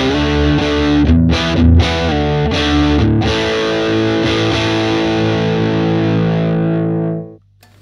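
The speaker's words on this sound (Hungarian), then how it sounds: "Nem is kimondottan az az igazán metal hangszín, inkább egy distortion pedálnak nevezném" An electric guitar plays through an Ibanez Mini distortion pedal set to high gain with the treble trimmed back, giving a thick, saturated chord and riff passage that rings loudly and then cuts off, with no talking.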